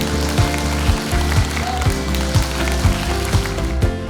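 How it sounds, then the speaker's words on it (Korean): Audience applause welcoming a professor at a lecture, a dense continuous clatter of many hands clapping with steady loudness throughout. "여러분 큰 박수로 교수님 맞아주십시오."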